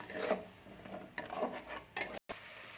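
Spice paste (masala) frying with a little water in a pan for a yardlong bean and pumpkin dish, with scraping stirring strokes and a soft sizzle, quiet and close.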